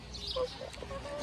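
Chickens clucking in short, scattered calls over a steady outdoor background, moderately loud and close.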